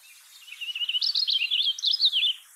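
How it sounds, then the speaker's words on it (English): Purple finch singing a long, melodious warbling song of rapid, varied high notes, continuous and fairly close, with no other sounds. "here's the purple finch. Much more sing-song."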